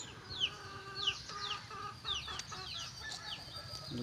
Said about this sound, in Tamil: கோழி ஒரு பக்கமும் குஞ்சுங்க ஒரு பக்கமும் இருக்குது பாருங்கள்.